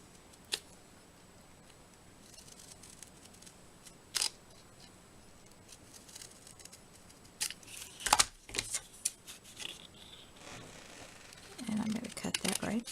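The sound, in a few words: hand cutting paper with scissors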